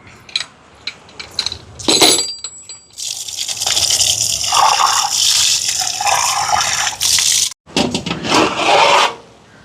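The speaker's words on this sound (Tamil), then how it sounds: "அரிசியை கழுவி எடுப்போம்." Rice being washed by hand in water, with bursts of swishing, gushing and rubbing grains, scrapes and splashes that come and go loudly and close, broken by brief pauses.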